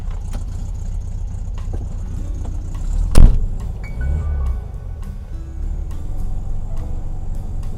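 A 1965 Volkswagen Beetle with a new muffler and new tailpipe tips drives along, its low air-cooled engine drone steady throughout, with a brief loud knock or clunk partway through and faint rattles.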